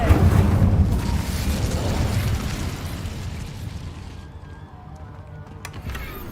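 The Incendio fire spell is cast in Hogwarts Legacy, giving a sustained roaring whoosh of flame. It stays loud and dense, then thins toward the end.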